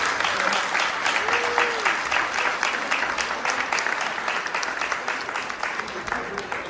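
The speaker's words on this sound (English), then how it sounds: "Let's give him a round of applause." An audience at a live performance claps steadily and fairly loudly throughout, with a voice briefly heard over the applause.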